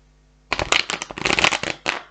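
Tarot cards shuffled by hand, a quick crisp riffle of rapid fluttering snaps lasting over a second, followed by one short final flick, close and alone after a brief silence.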